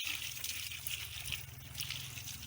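Water trickling and splashing steadily onto soil as a potted ornamental plant is watered indoors, a soft continuous pour with no talk.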